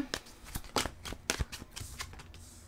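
Tarot cards shuffled and dealt during a reading, a quick run of crisp riffling flicks and papery slaps, close and fairly quiet, with no voice over them.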